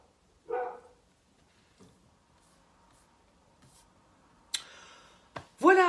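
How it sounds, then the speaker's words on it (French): A dog barks in short bursts, first once near the start and then twice more near the end. The barks are fairly near and loud over an otherwise quiet room. "il y a le chien qui aboie"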